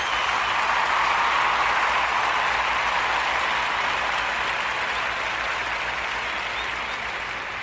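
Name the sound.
audience applause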